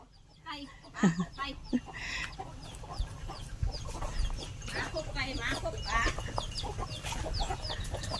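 Chickens clucking and calling close by on a farm while being called to feed, a steady busy chorus of clucks over a low background rumble, with a person calling out at times.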